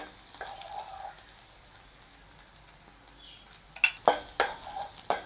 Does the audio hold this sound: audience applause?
no